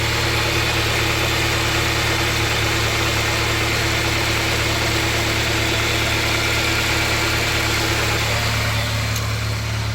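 Honda Insight with a swapped K20 engine idling smoothly, a steady close mechanical hum that holds evenly for ten seconds, its pitch dropping slightly toward the end as the revs settle.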